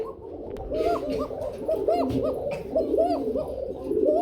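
Repeated soft, throaty cooing of a fancy breed pigeon close by, rising and falling in a steady rhythm over faint background noise.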